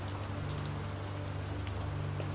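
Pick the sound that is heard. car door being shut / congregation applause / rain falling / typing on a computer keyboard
rain falling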